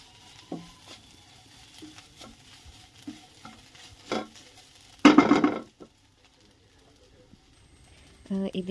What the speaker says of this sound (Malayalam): ഒന്നുകൂടെ ഒന്ന് മിക്സാക്കി എടുക്കുക.